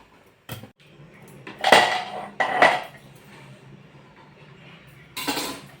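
A spoon scrapes and clanks against a pan while semolina roasts, giving a few sharp metallic knocks amid a low, steady scraping, close by with no talking.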